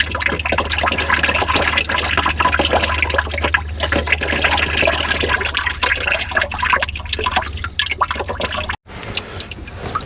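Oil drains out of the swing device of a Hitachi EX120-2 excavator in a loud, steady liquid rush that splashes and gurgles continuously and then briefly cuts out near the end, with no talking over it.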